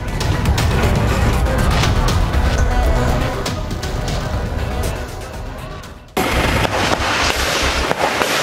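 A street brawl between two groups rings with loud bursts of firecracker explosions and cracks over a dense, noisy crowd roar, continuous and harsh, with a sudden dropout and then the din resuming.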